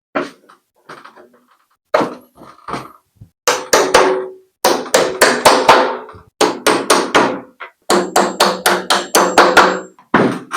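Nails being hammered into a wooden bunk bed during assembly: loud, close, ringing blows in quick rhythmic runs of several strikes, with short pauses between the runs and no talking.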